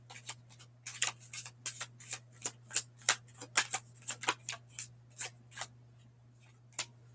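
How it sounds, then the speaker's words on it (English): Soft, quick papery flicks and taps of tarot cards being shuffled, in rapid irregular bursts over a steady low hum, close and quiet. "I don't usually shuffle like this, but I need cards."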